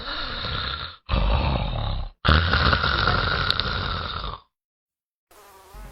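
A father snores loudly at night in a hot rooftop sleeping spot, three long rasping buzzy snores in a row with short breaks between, followed by silence.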